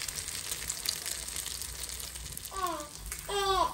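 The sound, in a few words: egg frying with onions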